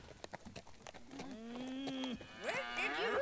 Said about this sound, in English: Where did you get cows? That's a bull!